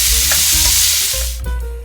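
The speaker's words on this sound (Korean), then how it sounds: "당근을 넣고 볶아주세요." Carrots sizzle and crackle in a hot pan with olive oil, garlic and onions, with loud continuous frying hiss and a few clanks of stirring near the mic.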